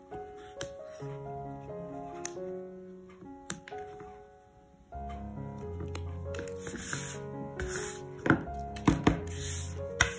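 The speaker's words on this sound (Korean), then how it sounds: "저는 이렇게 양쪽에서 눕혀서 하나씩 잘라주고 있습니다" Rattan strands on a handmade rattan pot trivet are cut one by one, giving a series of sharp crisp snips at irregular intervals over quiet background music, close to the listener.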